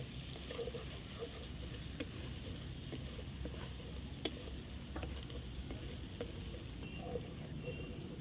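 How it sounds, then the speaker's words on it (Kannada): Goat liver and lungs fry with coriander, stirred in a pan: a constant soft sizzle under repeated scraping and clacking of a spoon against the pan, quiet and close, with a few faint voice murmurs. "ಕೊತ್ತಂಬರಿ ಸೊಪ್ಪನ್ನ ಸೇರಿಸಿ ಚೆನ್ನಾಗಿ ಮಿಕ್ಸ್ ಮಾಡ್ಕೋಬೇಕು."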